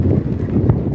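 A strong northeast wind buffets the microphone on a beach in Laguna, a short burst of loud, low, rumbling gusts with no clear voices.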